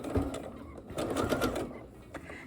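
A sewing machine runs a long basting stitch along a dress seam in a few short bursts with brief pauses, close and moderately loud, with no talking over it.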